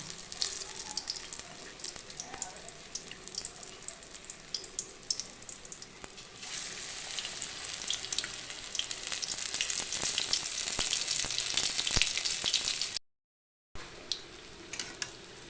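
Cauliflower pakoras frying in hot oil, a dense continuous sizzle that swells louder midway and holds steady, close by, with a brief cut to silence near the end.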